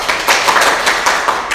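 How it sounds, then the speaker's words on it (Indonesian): A classroom of students claps for a classmate, a brisk, close burst of many overlapping hand claps with a loose, rapid rhythm throughout. "Tepuk tangan untuk Eca"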